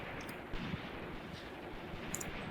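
Distant artillery fire in the war game Graviteam Tactics, a low rumbling barrage of dull booms blending into a continuous roar, fairly faint with no talk.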